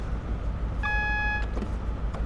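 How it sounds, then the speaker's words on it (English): A single AWS warning alarm sounds in the cab of a Class 43 locomotive in Train Sim World 2, a steady electronic tone lasting about half a second and clearly audible over the low, constant engine rumble. "That was the AWS alarm alerting us of the yellow signal ahead of us."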